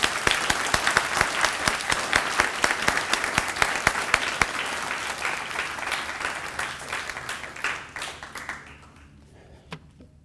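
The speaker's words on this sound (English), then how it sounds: "Let's give them a big round of applause." At a 2022 elementary school moving-up ceremony, the audience gives a big round of applause: many hands clap with sharp, distinct slaps that gradually thin out and fade toward the end, with a few last scattered claps.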